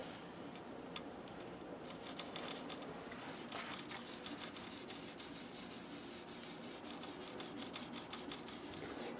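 Lemon oil being rubbed by hand onto the frets of a Harley Benton JA-60 electric guitar, a soft continuous rasping scrub with small ticking clicks scattered through, quiet and close.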